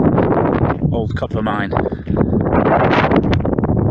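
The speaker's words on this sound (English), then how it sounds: "little bit breezy, just not very warm" Wind buffets the microphone at an old copper mine on Parys Mountain, Anglesey, North Wales, a steady loud rumble and roar that runs throughout beneath someone talking.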